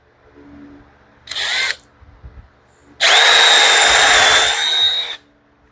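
A power drill drives screws into a wooden work table, with a short whirring burst followed by a longer, louder run as a 2.5 to 3 inch screw sinks into the wood, with quiet handling noises between.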